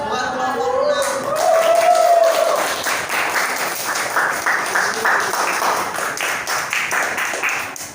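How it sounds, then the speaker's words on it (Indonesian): A classroom of students claps for group 6 during a teaching performance session, a steady burst of applause that starts after a voice and continues, thinning toward the end. "Berikan aplaus buat kelompok 6"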